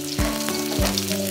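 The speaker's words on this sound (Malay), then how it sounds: "Tumis bawang merah dengan bawang putih" Shallots and garlic, with chili, sizzle and fry in a spoonful of hot oil in a pan, a close, continuous crackling hiss with no talking.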